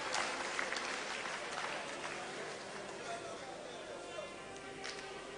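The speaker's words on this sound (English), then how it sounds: "Please, another round of applause for Prof." A political rally crowd gives sustained applause for a newly announced running mate, dense continuous clapping with a murmur of crowd voices and chatter underneath.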